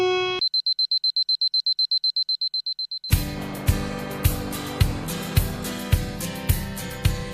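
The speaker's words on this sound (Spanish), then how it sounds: "tenemos alarmas cada 4 o 5 segundos" Alarms sound in the Jack Daniel's distillery control room: a rapid string of steady electronic beeps, then a lower, fuller repeating alarm tone pulsing about every half second, loud and alone.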